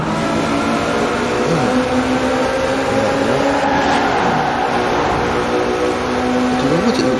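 Ferrari 575M Maranello in Forza Horizon 4 accelerating along a highway, a loud sustained engine tone climbing through rising harmonics over several seconds, with a shift-like step partway through.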